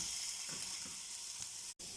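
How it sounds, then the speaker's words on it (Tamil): Coarsely ground masala spices sauté in a hot pan, giving a steady, even sizzle and crackle close up, with a brief gap near the end. "இது ரா ஸ்மெல் போகிற வரைக்கும் வதக்கலாம்."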